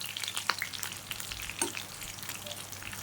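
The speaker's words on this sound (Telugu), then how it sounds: "మిర్చి, కరివేపాకు వేసుకున్న తర్వాత అవి మంచిగా వేగిందాక వేయించుకోవాలి." Green chillies and curry leaves fry in a pan, a steady close sizzle with crackles and occasional stirring scrapes, no voices.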